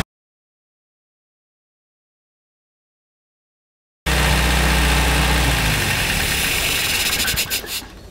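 After about four seconds of silence, a car engine with SU carburettors idles close by, warmed up, a loud, steady, slightly lumpy rumble that settles toward the end.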